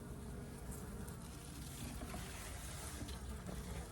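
Honey bees in an open hive being fed sugar syrup from a frame feeder, a steady, dense, faint buzzing swarm with no talking.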